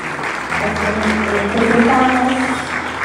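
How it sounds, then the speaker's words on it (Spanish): A congregation at a Christian music award event gives loud applause. The clapping is steady and continuous, and voices are audible beneath it throughout. "fuertes aplausos al Señor"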